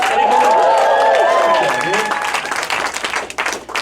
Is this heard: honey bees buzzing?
no